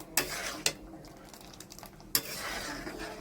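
Homemade tomato sauce with tamarind water being stirred in a pot, with three sharp utensil knocks against the pot over a soft simmering background.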